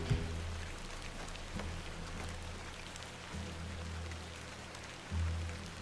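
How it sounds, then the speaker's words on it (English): Steady rain from the video game The Excavation of Hob's Barrow, set in English countryside, hisses evenly throughout under a low droning hum, with a few faint knocks and no talking. "And of course, there's rain."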